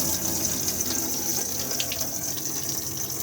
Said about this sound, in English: which turns the water pump on and off